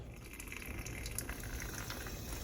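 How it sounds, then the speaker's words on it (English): Tap water runs in a thin, gentle stream over a charred roasted green chili being rinsed clean, a soft steady trickle that stays quiet and unbroken throughout. "I'm going to run it under water real fast"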